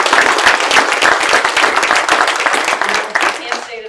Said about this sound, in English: how about, again, a round of applause for our site team members